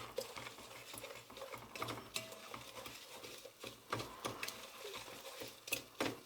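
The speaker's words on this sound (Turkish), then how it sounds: "Şimdi irmiği boşaltıyoruz içine. Daha sonra sürekli karıştırıyoruz." Semolina being stirred into hot oil in a pot for homemade semolina halva, a soft, irregular scraping and pattering of the spoon against the pan, quiet and close with small clicks.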